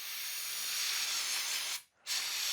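Cleaner sprays into the trigger of an Accuracy International rifle in a loud, steady hiss that cuts out briefly and then resumes.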